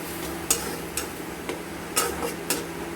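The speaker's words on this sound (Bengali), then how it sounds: "দিয়ে এটাকে আমরা ভালো মতো করে কষে নেব।" Spices being stir-fried for chicken and kabuli chickpea ghugni, chilli powder and turmeric among them, with a low steady sizzle under a handful of sharp spoon scrapes and taps against the pan at irregular intervals.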